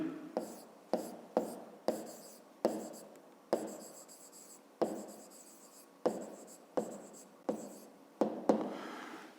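A pen writes on paper for a fifth-grade geometry exercise, in a series of short, separate scratchy strokes with brief pauses between them, close and fairly quiet.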